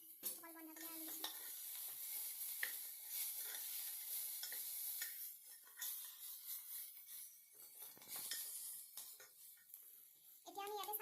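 Onions, potato and cabbage frying in a pan, a bright continuous sizzle broken by repeated stirring scrapes, with a voice speaking over it now and then.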